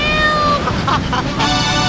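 Cat meowing in the video game Grand Theft Auto III, a few short loud meows over a steady bed of tonal game sound.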